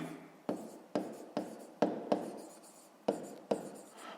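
A pen writing a math formula by hand on paper in a close, quiet room, making short scratchy strokes in quick bursts with small pauses between them, with no voices.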